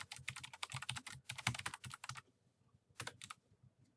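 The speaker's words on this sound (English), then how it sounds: "And type in whatever you want." Quick bursts of keystrokes on a computer keyboard, close and fairly quiet, with a run of steady typing, a short pause, then a few more taps near the end.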